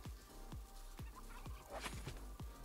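A turkey gobbles in the survival video game Last Day on Earth: Survival, a quiet run of rapid, repeated gobbling calls over a low background hum, with no talking.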